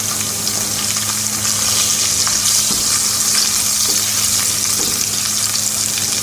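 Cumin seeds, cloves, green chillies, turmeric, red chilli, coriander and cumin powders toast in hot oil in a pan for Peshawari lobia, giving a steady, close sizzle and crackle with occasional stirring scrapes, with no voices.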